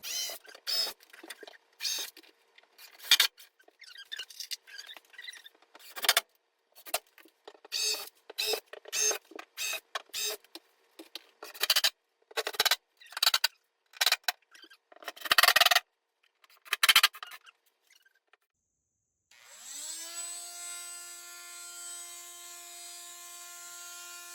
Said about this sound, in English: Using my multi-tool was a good way to score this hard cement board.